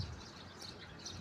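Birds chirp outdoors on a morning in a quiet Taiwan neighbourhood, faint scattered tweets over a soft, steady ambient hiss with no talking.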